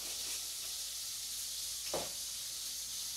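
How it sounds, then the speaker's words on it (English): Steady high-pitched sizzle of seasoned food frying in a pan, with onion powder and soul food seasoning just added, broken by a brief scrape of stirring near the two-second mark; no voices. "Give it another good stir."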